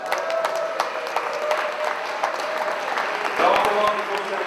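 An audience applauds volunteers at a vintage motorcycle rally in St-Cergue, with steady clapping from a crowd throughout while someone speaks over a microphone.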